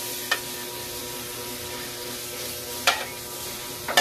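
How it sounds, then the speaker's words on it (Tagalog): Butter sizzles steadily in a hot pan for a Filipino home-cooked dish, a continuous bright frying hiss punctuated by a few sharp crackles and stirring scrapes, with no talking. "Ayan, butter ilalagay ko guys para masarap"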